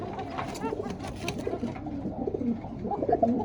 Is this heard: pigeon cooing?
yes